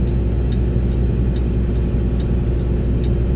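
A semi truck's engine drones low and steady while climbing a mountain grade after an upshift, the rumble unbroken and close with faint periodic ticks above it.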